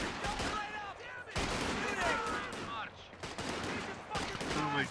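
Machine gun fire from Company of Heroes 2 battle gameplay rattles in repeated loud bursts, near and dense, while a voice talks excitedly over the shooting.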